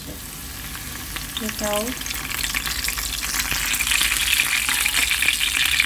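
Curry leaves fry in hot oil in a pan while making peanut rice, giving a steady crackling sizzle that grows louder and brighter toward the end, with a short spoken word early on.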